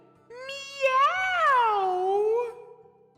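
A human voice imitates a cat's meow with one long, drawn-out call that rises and then slides down in pitch, standing alone against quiet.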